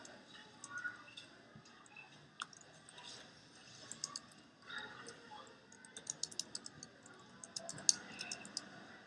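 Quiet, irregular clicking of keys on a computer keyboard while doctor's note headings are typed, with light ticks and small bursts of taps growing busier toward the end, faint and close in a quiet room.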